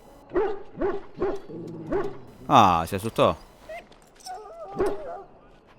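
A wounded, sick dog in the video game Dragon Age Origins gives a string of short whimpers and yips, then a louder drawn-out whine, with someone speaking briefly over the animal sounds.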